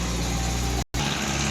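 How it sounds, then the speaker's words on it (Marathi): A passing tractor's engine drones steadily and close by as one continuous rumbling roar, with a brief cut partway through and no voices over it. "ऐका, ट्रॅक्टर जाऊ द्या"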